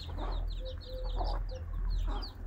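A hen clucks softly while many chicks cheep in quick high peeps nearby, over a low hum.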